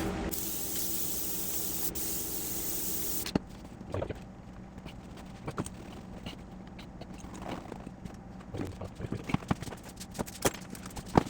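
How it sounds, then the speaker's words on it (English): Spray glue hisses loudly from an aerosol can for about three seconds while installing carpet in a 1967 Triumph Spitfire MK3, followed by quieter scraping and handling noises as the material is pressed down. "I'm gonna spray glue now"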